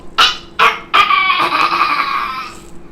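A small boy imitates a goat with his voice, a few short sharp bleating cries followed by a longer wavering bleat, loud and close.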